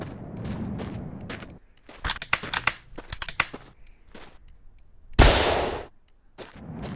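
Compressed-gas soda canisters burst in The Long Drive, a string of sharp cracking pops followed by one loud, broad blast near the end, each bang close and abrupt with short gaps of quiet between.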